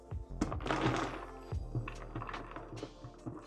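Knife chopping walnuts on a cutting board by hand, a cluster of close, dull thunks and small clicks in irregular rhythm, with faint rustling of the nut pieces.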